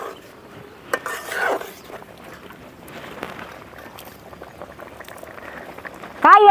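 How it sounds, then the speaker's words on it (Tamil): A pot of Tamil anchovy dried-fish curry (nethili karuvattu kulambu) bubbles softly at a low boil, with scattered clinks of a utensil against the pot and a sharper clatter near the end. "தண்ணி கொதிச்சு போச்சு"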